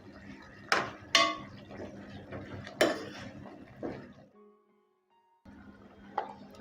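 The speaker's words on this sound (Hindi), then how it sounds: "इन मसालों को भी हम अच्छे से मिक्स कर देंगे।" A spoon clanks and scrapes against a cooking pot while spice powders are mixed for beef karahi: several sharp knocks and scraping strokes, a brief quiet pause, then more stirring.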